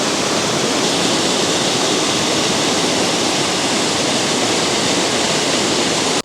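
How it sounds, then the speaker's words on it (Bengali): A snowmelt-fed mountain waterfall on the trek to Big Almaty Lake in Kazakhstan, roaring as a loud, dense and unbroken wash of rushing water, very close and filling the whole clip. "এই যে ঝর্ণাটা"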